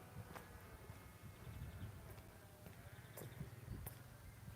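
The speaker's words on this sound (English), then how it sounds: "Farmers feeding sheep and lambs." Sheep and lambs bleat at a farm while being fed, several short calls rising over a steady outdoor rumble, moderately near and fairly faint with no talk.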